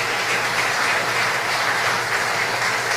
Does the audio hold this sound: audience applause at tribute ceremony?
yes